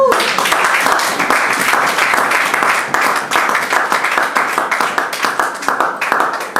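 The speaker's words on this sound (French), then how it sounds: "Est-ce qu'on peut acclamer la parole de Dieu?" A church congregation breaks into warm, steady applause for the word of God, many hands clapping together in a dense, even roar that carries on without a break for several seconds.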